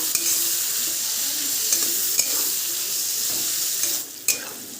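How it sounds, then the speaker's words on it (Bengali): Chopped onion and capsicum sizzle in a hot pan for chicken chowmein, a close, steady frying hiss broken by a few sharp spatula knocks and a brief dip near the end, no voices. "পেঁয়াজ আর ক্যাপসিকামটা ভাজা ভাজা হয়ে গেছে"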